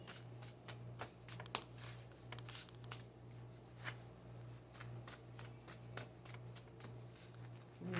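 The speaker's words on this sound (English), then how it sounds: "Let me reshuffle." Tarot cards being shuffled, a steady run of crisp riffling snaps and flutters over a low constant hum, with no voices.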